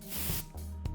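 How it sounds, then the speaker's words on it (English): A compressed air canister sprays in two short hissing bursts, a longer blast followed by a brief second puff, close and fairly loud with no talking. "you check if no one's shaken the canister by spraying it on yourself"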